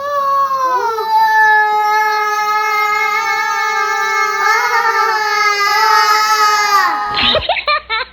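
A small boy imitates an elephant with a long, loud, sustained trumpeting wail, held with wavering pitch for several seconds, ending in a sudden drop and scuffle.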